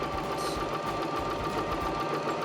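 A Baby Lock Zest sewing machine stitches a tuck along the folded centre line of fabric: a steady, close motor hum with rapid, even needle chatter running the whole time, with no voices.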